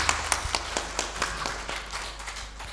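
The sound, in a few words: audience applause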